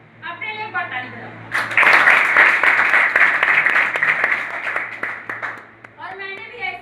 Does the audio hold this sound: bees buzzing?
no